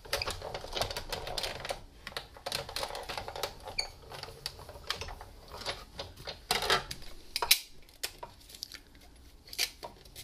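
Framelits and Thinlits dies being run through a die-cutting machine for gatefold cards: a dense, continuous run of close clattering, clicking and cranking for about ten seconds, with no talk.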